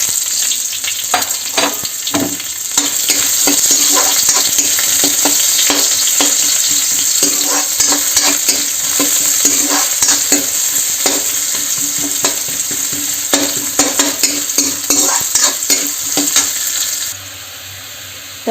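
Onions and curry leaves frying in a pan while being stirred, with a steady loud sizzle and frequent scraping stirs throughout, then a sudden quieter close.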